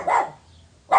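Two loud dog barks at a chimney close by, separated by a short pause of near silence.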